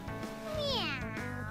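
Cat meowing in the video game Persona 5 Strikers, a single clear rising-then-falling meow, close and distinct over a faint background.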